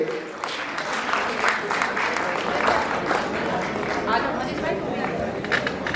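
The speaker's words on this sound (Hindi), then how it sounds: "जोरदार तालियों से बेटी का स्वागत करेंगे" A crowd claps to welcome a girl at the Basant Panchami fair at Kanvashram, Uttarakhand, a steady round of applause mixed with murmuring voices and some talk underneath.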